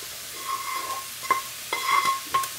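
Cooked chorizo is stirred into potatoes for burritos, with a few distinct scraping strokes and light sizzles over a low, steady hiss.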